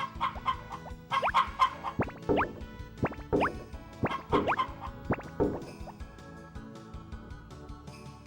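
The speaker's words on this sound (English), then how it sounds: "I hope those 2 chickens are alright." Chickens clucking in the PlayStation farming game Harvest Moon: Back to Nature, a series of short bright clucks and plopping notes in quick bursts, clear and close with no talking.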